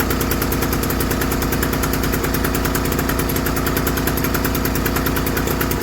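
An old Stuart Turner two-stroke boat engine runs steadily, a loud, close, rapid rhythmic putter with a rattling knock that holds constant throughout, with no voices.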